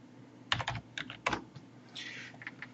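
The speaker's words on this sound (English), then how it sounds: "I'm going to type in my password" A password is typed on a computer keyboard: a few close, sharp key clicks in small clusters with short pauses, followed by a softer rattle of quicker taps.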